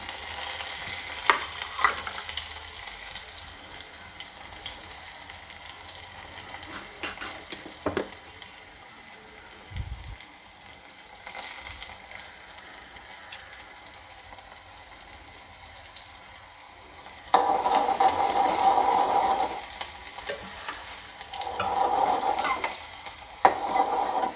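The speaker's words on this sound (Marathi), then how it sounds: "यात कांदा घालून घेऊया" Chopped onion frying in a pan for a spicy aubergine and field-bean curry: a steady close sizzle with occasional stirring scrapes, growing noticeably louder and brighter in its last third.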